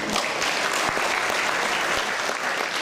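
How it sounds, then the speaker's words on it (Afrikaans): Steady, dense applause from an audience at a primary school academic awards ceremony, an even crowd of clapping hands filling the space throughout the short span with no voices on top. "Ons klap net as ek die gemiddelde by lees"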